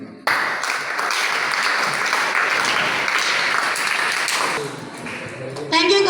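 A round of applause from a school Maths Day audience starts abruptly and holds steady, thinning near the end as a voice cuts back in.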